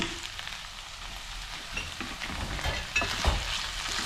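Curry leaves crackle and sizzle in hot oil in a pan while a potato, egg and chana dal curry is being cooked, a steady close frying hiss with a few sharper pops and light stirring scrapes.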